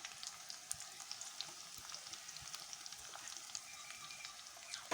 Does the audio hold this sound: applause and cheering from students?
no